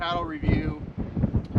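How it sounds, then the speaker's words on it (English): Low rumbling gusts buffet the microphone in uneven bursts while someone talks close by, outdoors at sand dunes. "Kind of windy, sorry about that"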